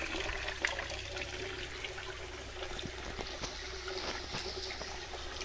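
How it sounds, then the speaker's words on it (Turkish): Water running steadily from an old village fountain at the forest edge, a continuous close splashing flow with faint outdoor background and no talk. "çeşme su akıyor"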